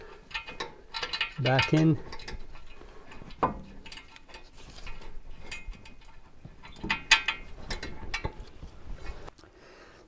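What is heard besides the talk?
ratchet tightening C3 Corvette brake caliper mounting bolts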